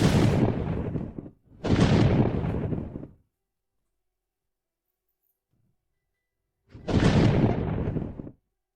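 Thunder rumbles in three loud, separate bursts of about a second and a half each, with a long silent gap before the last one and no voices.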